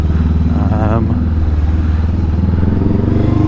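Honda Rebel 500 motorcycle, a 2020 model, running steadily while being ridden through traffic, its low engine drone continuous and close throughout, with a brief voice rising over it near the start.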